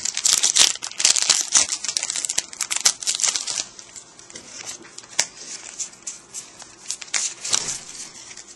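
A Pokémon card booster pack wrapper being torn open and crinkled, a dense, loud run of crackling plastic rustles that eases into softer, scattered crinkles and handling noises, close up with no talk.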